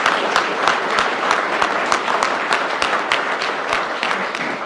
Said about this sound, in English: How about a big round of applause for the people who actually make this happen?